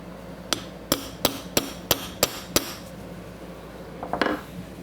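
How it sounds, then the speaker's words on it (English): Pins are hammered into the nut of a Wilton vise during restoration and reassembly: seven sharp, ringing metal strikes at a steady pace, close and loud, followed by a softer clatter of metal a moment later. "those pins should just drive right into that nut"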